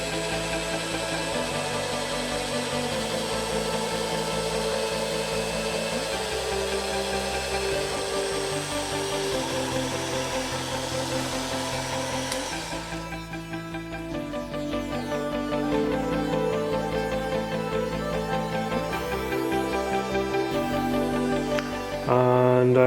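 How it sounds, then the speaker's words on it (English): A power drill runs steadily while drilling holes for luminescent side dots in a guitar neck, its motor whine holding level before shifting in pitch partway through. "when I find the spot, I can turn on the drill and just go for it"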